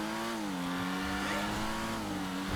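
A car engine revving in the GTA video game, a rough, sustained engine drone with slowly shifting pitch, heard close and steady with no talk.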